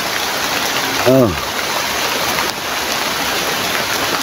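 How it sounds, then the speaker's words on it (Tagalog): Heavy rain pours steadily as a constant dense hiss throughout, with a brief voice cutting in near the start. "ang lakas-lakas ng ulan"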